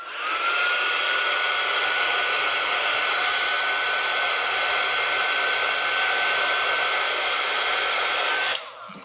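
A steady, loud whir of a hair dryer blowing on a freshly made craft sign runs without a break for about eight and a half seconds, then cuts off, with no voices.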